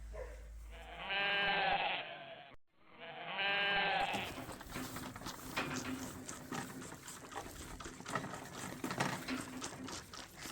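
Two loud, close sheep bleats in quick succession at pasture on a farm, followed by a steady rustling, munching background at a feeder.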